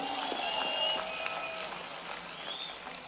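An audience at a public event claps for cricket stars Rohit Sharma and Rahul Dravid, a soft, even patter of applause that slowly fades, with faint crowd voices underneath.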